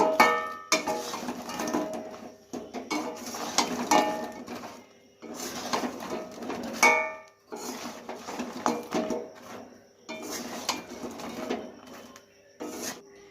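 Flattened-rice pitha worked into thick sticky sugar syrup in a pan, a spoon scraping and clinking against the metal in repeated bursts with short pauses between strokes.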